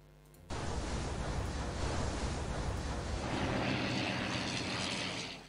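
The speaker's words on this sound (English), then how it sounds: "Let's send one of our planes out." In the World War I strategy game Strategic Command WW1, a plane sent out on a scouting mission sets off a sudden, steady rushing roar of a propeller aircraft that holds for several seconds and then fades out.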